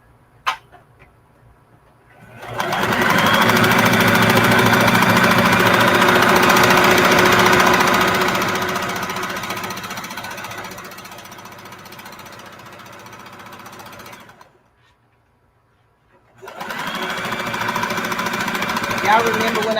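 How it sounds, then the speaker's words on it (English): A sewing machine runs a long straight seam down folded fabric, a loud steady mechanical whir that stops briefly, then starts again for a second burst. "I'm just going to sew straight down"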